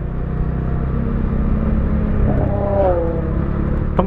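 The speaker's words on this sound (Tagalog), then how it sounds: "Parang motor ni Robocop eh." A loud, steady engine rumble with a brief rising whine partway through, a Bajaj Dominar 400 motorcycle idling and revving close by at night.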